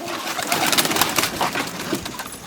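Tumbler and timing pigeons coo in a loft, several soft throaty calls overlapping continuously and close by, with light rustling and no voices.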